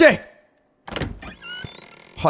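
A door opens in the horror video game Evil Nun 2 with a creaking, scraping swing and a thud, following a short burst of a player's voice.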